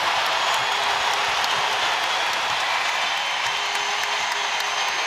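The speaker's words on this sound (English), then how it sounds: "Back-to-back buckets, and this crowd comes back to life" Steady crowd roar and applause in a women's college basketball arena, Auburn versus South Carolina, a continuous wash of cheering throughout.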